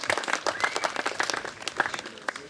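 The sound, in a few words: crowd clapping at disc golf event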